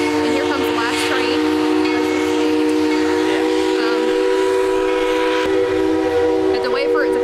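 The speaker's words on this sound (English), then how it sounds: "And here comes the last train." A train at Tweetsie Railroad rolls by with a steady, loud whistle-like drone of sustained tones throughout, plus brief squealing chirps layered on top and no pause in the noise.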